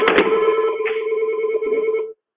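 A Fanvil or Yealink desk IP phone on a 3CX system rings with a bright electronic tone, one continuous burst lasting about two seconds and then cutting off into silence.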